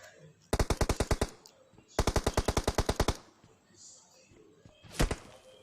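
Automatic rifle fire in the mobile battle-royale game PUBG Mobile, an M416, rattling off in two loud rapid bursts of about a dozen rounds each, then a single heavy shot a couple of seconds later, with no talk.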